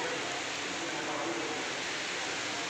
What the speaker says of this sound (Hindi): लेकिन खतरनाक हो रही है बारिश।